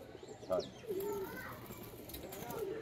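Pigeons kept by a hobbyist coo in short, soft bursts at close range, with a few brief calls spread across a noisy outdoor background.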